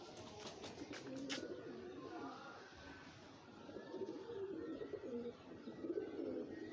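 A pigeon coos softly in low, throaty pulses, repeated a few times against a quiet room background with faint clicks at the start.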